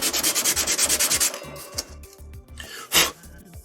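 Scraping and sanding of a small plastic miniature table piece: a fast run of about ten rhythmic rubbing strokes up close, then a few slower, scattered scrapes and one louder rasp, with no talking.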